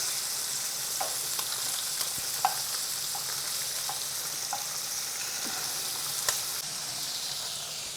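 Shrimp and scallops fry in oil and butter in a pan, a soft, steady sizzle with a few light clicks and taps as pieces are flipped, no talking.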